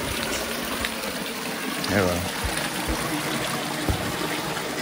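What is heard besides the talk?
spring water flowing near temple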